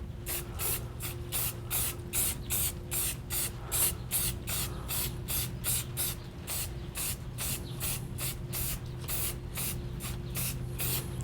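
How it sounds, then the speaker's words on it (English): Rapid repeated bursts of spray paint hit a pine wooden sign, a steady rhythm of short hissing pulses close to the microphone with a faint low hum underneath and no talking. "So I'm going to spray it there."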